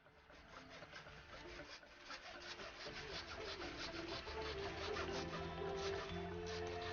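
A hard coconut bonsai stump being cut, heard as steady, continuous rasping and sawing strokes that grow gradually louder over the course of the sound, close by, with no talking.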